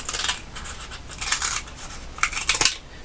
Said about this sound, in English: Just cut it with scissors.